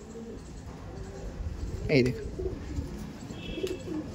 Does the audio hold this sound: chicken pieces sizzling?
no